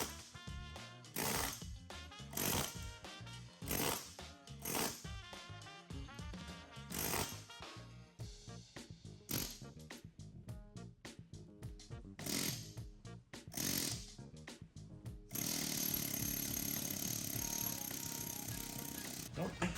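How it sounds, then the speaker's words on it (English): Loud, rapid bursts of an air hammer pounding on a hammer set on a long-stuck piston in a 1966 Chevelle engine, in repeated short runs separated by pauses, ending in a longer continuous burst of rattling. "I'm gonna put my air hammer on top of the hammer and see if I can get the piston to knock"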